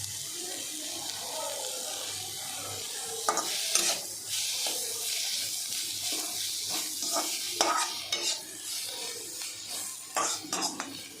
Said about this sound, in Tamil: இன்னும் வதக்கும் கொஞ்சம் நேரம்